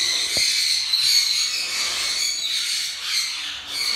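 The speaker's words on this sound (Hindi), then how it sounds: "ये देखें मकाओ को" Harsh, raspy macaw squawks ring out nearly without a break, loud and close, with a brief sharp knock near the start and no one speaking.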